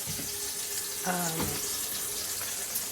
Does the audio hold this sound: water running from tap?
yes